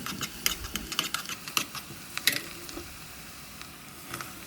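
Sliced onions fry in oil in a pan for a homemade baby corn biryani, giving a steady soft sizzle punctuated by sharp clicks and taps of a stirring spoon against the pan.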